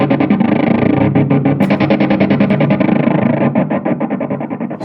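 Electric guitar run through effects units in a studio, with heavily distorted, pulsing tremolo-like dives chopping rhythmically throughout, loud and close with no talk.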